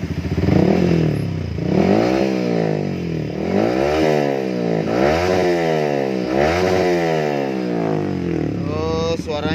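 A Yamaha R15 fitted with a racing exhaust and dB killer revs repeatedly, its engine pitch sweeping up and down in several loud, close blips over a steady idle.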